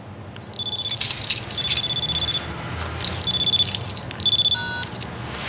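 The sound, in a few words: telephone ringing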